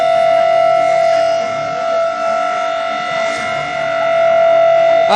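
A civil defense siren wails loud and steady during a high alert in Delhi, holding a sustained multi-tone howl that dips slightly midway, with no voices over it.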